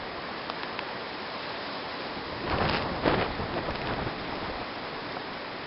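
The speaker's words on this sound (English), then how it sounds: "Our old maple's blowing around in the breeze." Wind from Hurricane Sandy rushes through an old maple and other trees in a steady hiss, rising into a stronger gust midway before settling back to a constant outdoor roar.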